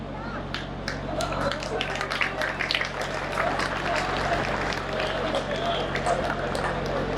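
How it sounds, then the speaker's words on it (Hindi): Audience applause at a Hindi hasya kavi sammelan, a comedy poetry gathering, with a steady spread of hand claps filling the hall for several seconds at moderate loudness over a low electrical hum. "तालियां कम है हालांकि आपकी"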